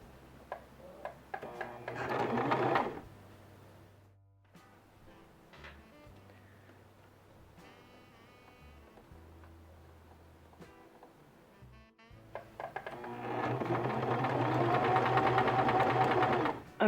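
A sewing machine stitches a seam on a pair of pants, running in a loud rapid whirring burst near the start, going quiet through the middle while the fabric is adjusted, then running steadily again near the end, close up with no talk.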